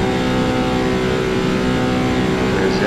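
A Ferrari FXX K engine in Forza Motorsport shifting into seventh gear at top speed on the Mulsanne Straight, a loud sustained high-revving drone that stays steady and close without pause.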